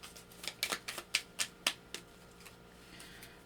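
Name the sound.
shuffling journaling cards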